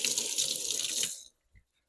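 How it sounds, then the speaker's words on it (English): Running water from a kitchen faucet splashes over fingers being rinsed during sourdough baking, a steady close rush for just over a second before it shuts off, followed by a small soft knock. "Let me rinse my fingers off real quick."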